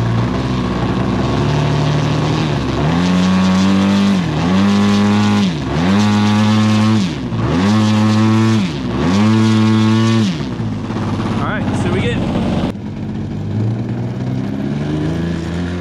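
Extreme Flight Laser model plane's glow engine warming up and running very rich, a loud, steady nitro buzz that rises and falls in several repeated revving surges before settling to a rougher idle.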